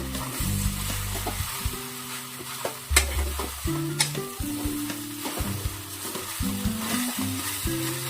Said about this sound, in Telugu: 2 నిమిషాలు మళ్ళీ మగ్గించుకుందామండి